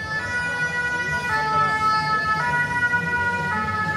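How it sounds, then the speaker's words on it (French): An ambulance siren wails in repeating two-tone cycles as it passes through a street demonstration, fairly close, over a low background of traffic and crowd noise. "comme ça vient de passer, là l'ambulance"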